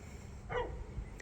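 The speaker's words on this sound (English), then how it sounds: "the dog next door's barking." The next-door neighbour's dog lets out a single short bark, distant and muffled beneath steady outdoor background noise.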